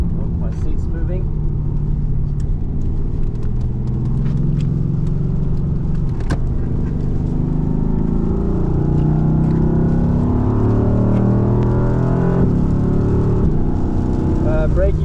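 A car driven hard around the Nurburgring track gives a loud, continuous engine roar and road rumble throughout, with someone talking over it inside the cabin.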